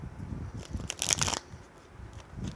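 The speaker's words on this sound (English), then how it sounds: "I'm going to shuffle a few more shuffles" Tarot cards shuffled up close in a soft, papery rustle, swelling to a brief crisp riffle midway before settling back to quiet handling.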